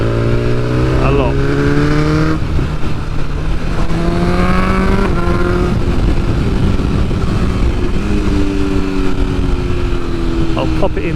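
Exhaust popping and engine revs from a 2022 BMW S1000R fitted with race exhaust headers while riding, loud and close as the engine pulls through rising gears and then crackles off the throttle, with wind noise throughout.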